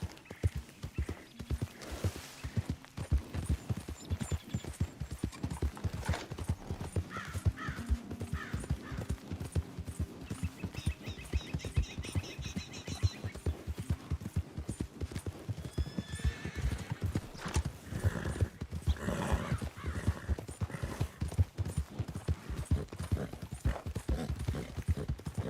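A horse in Red Dead Redemption 2 clip-clops at a steady gallop throughout, its hooves loud and continuous, with whinnies and snorts breaking in over the rhythm.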